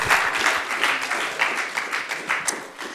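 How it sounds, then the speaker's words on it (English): An audience at a undergraduate case competition final round applauds, with loud, close, steady clapping from many hands that holds for the whole stretch and fades slightly at the end. "Give them a round of applause, everybody."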